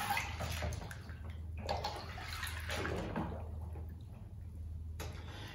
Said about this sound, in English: let some water go over the pins